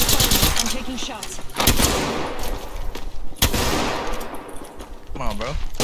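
Rapid automatic gunfire and shot bursts in the Apex Legends video game, loud and dense, layered over constant game noise with a player talking through it.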